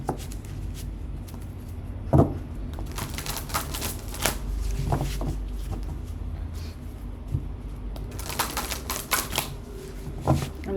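Deck of cards being shuffled close by, repeated bursts of riffling and soft slaps with sharp clicks, continuing without talk.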